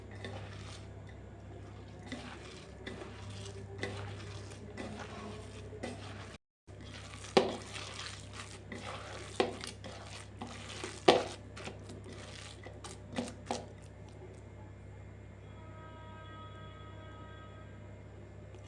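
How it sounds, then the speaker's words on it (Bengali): Water is poured bit by bit into flour for cabbage paratha dough, which is then mixed and kneaded by hand. Quiet, steady stirring and squishing is punctuated by faint taps and clicks against the bowl, over a low kitchen hum. "এবার আমি এর মধ্যে অল্প করে জল দেব, দিয়ে এটাকে মাখবো।"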